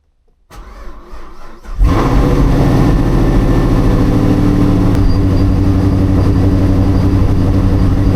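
An engine cranks briefly after a soft click, then fires with a sudden loud burst and settles into a steady, close, droning idle for several seconds, with no talking.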